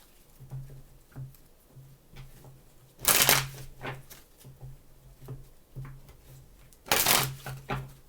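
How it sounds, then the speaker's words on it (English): Tarot cards shuffled by hand, two loud riffle bursts about four seconds apart, with softer card taps and slides between them, close and without talk. "3 shuffles."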